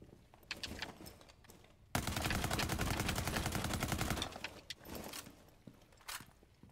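Rapid automatic gunfire from the video game Rainbow Six Siege bursts out for about two seconds, dense and fairly loud, with scattered shots and thumps around it.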